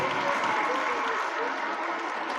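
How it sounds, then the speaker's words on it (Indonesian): An audience at a school Quran completion and graduation ceremony claps steadily and loudly, a dense sustained applause with voices mixed in. "Berikan tepuk tangan sekali lagi untuk anak-anak kita"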